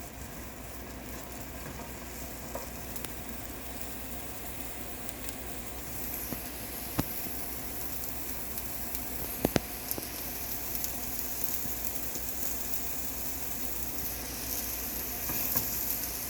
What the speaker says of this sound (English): you just kind of keep stirring to make sure that you're not burning your vegetables